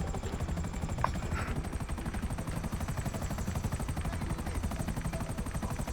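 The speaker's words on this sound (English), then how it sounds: "This is a Merryweather helicopter." A Merryweather helicopter's rotor in Grand Theft Auto V chops in a fast, steady rhythm with a constant engine whine, loud and continuous throughout.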